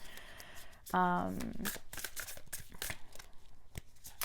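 Tarot cards being shuffled and riffled in quick papery bursts, close up, with a brief voice partway through.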